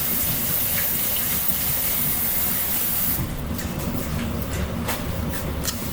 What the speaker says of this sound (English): I gotta wash my hands